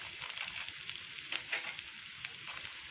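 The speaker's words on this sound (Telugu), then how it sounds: "వాటితో పాటు పల్లీలు కూడా బాగా ఫ్రై అవుతాయి" Onions, peanuts and sliced okra frying in oil in a pan, a steady dense sizzle with occasional stirring scrapes and small pops, close and alone.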